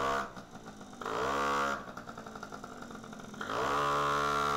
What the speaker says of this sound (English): put it back on and bike fires right up